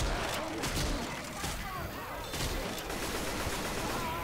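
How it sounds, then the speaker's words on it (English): Dense, continuous rattling of gunfire and explosions in Left 4 Dead 2 fills the scene, with a voice talking over the chaotic, steady barrage. "Explosions everywhere."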